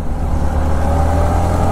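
A BMW car drives past on a road in Gurgaon, a steady low engine rumble, loud and close, with no talking.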